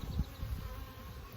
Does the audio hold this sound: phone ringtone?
no